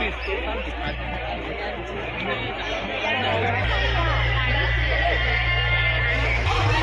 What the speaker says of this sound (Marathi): तिथे खालती यात्राला पण खूप गर्दी आहे इथे